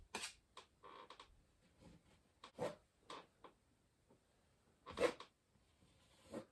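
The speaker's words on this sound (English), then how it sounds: "You can hear me scraping away." A palette knife scrapes paint across an oil painting of the northern lights, leaving short, rough rasping strokes in irregular bursts with quiet gaps between, close but faint.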